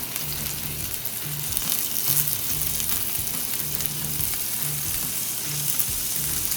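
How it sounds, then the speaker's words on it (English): A coffee-rubbed steak fries in a pan with butter, giving a steady close sizzle and crackle throughout, with faint low thumps recurring at intervals. "I'm going to start adding a little bit of butter."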